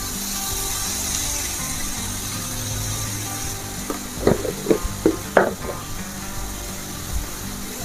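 Potatoes and onions, salted, fry in a pan for a drumstick-leaf and moong dal dish: a steady close sizzle with a short run of scraping stir clicks near the end, faint voice murmuring underneath.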